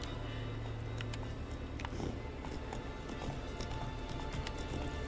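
In The Witcher 3, Geralt's horse Roach moves with a steady clip-clop of hooves under a low ambient bed, with faint talk in the background.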